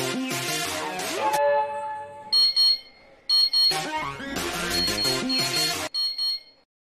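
A siren alarm set off by a door sensor blares in loud, shrill electronic bursts, switching between tones and cutting in and out in a choppy pattern before stopping abruptly.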